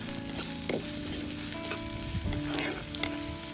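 Finely chopped onion and tomato sautéing in oil in a pan, a steady close sizzle with a few scraping stirs of a spoon and light clinks, no voices.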